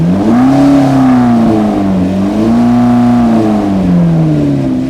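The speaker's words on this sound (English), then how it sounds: "go ahead and rev it again." A rebuilt McLaren sports car engine revs up and down close by, a loud, steady tone that climbs and settles twice in smooth swells with no talking.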